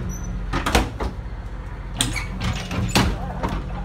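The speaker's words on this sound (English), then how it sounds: "Sorry, Michael, I didn't mean to play with your bus door without asking your permission" A vintage Thomas bus door is worked open and shut, giving several mechanical clunks and thuds in an irregular sequence over a low engine idle, heard close by.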